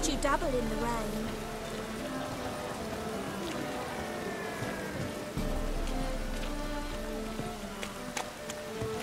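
Steady rain in The Witcher 3 Wild Hunt hisses evenly throughout, a dense wash that stays continuous the whole time while someone talks over it and game music plays faintly beneath.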